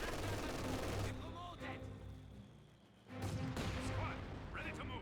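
Mortar and artillery blasts in the World War II strategy game Company of Heroes 2, heavy booming impacts in two dense bursts separated by a brief lull, with a commentator speaking over the gunfire.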